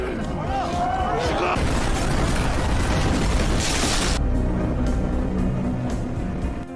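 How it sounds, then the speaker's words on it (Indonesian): A bomb carried by a man detonates amid a crowd in a film scene: a loud sustained burst with crashing debris and a rush of noise, followed by lingering rumble, with dramatic music and voices throughout. "pria tersebut meledakkan bom yang dibawanya"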